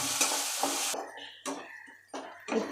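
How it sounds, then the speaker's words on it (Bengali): Ginger-garlic paste fries in a pan with onion and green chili, giving a bright sizzle that falls quiet and then returns as short bursts while the mixture is stirred and scraped. "আদা রসুন বাটাটা দেখুন আমার হালকা ভাজা ভাজা হয়ে গেছে"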